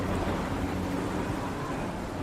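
A storm effect of heavy rain and strong wind gives a dense, loud, continuous roar with no pauses and no voices.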